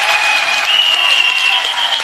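An audience at a commemoration event claps in steady, dense applause. It sounds loud and sustained, with the mass of hands forming a continuous wash.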